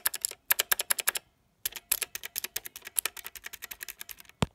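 A GK61 keyboard with blue switches and keycaps fitted is typed on in rapid bursts of sharp clicky keystrokes, close and distinct, with brief pauses between runs.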